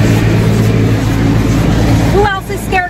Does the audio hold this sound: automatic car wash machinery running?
yes